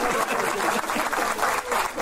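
Audience applause for film director Obi Emelonye, a dense wash of many hands clapping at steady loudness, brief and continuous.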